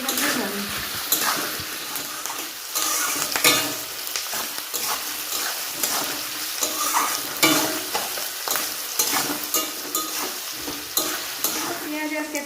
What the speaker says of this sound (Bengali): পেঁয়াজ আর ক্যাপসিকাম তো ভাজা হয়ে গেছে